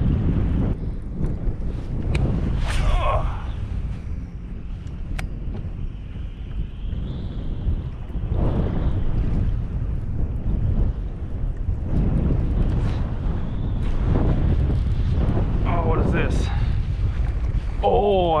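Strong wind buffets the microphone during kayak fishing on a lake, a loud, continuous low roar with gusty surges and occasional splashes and knocks from the boat.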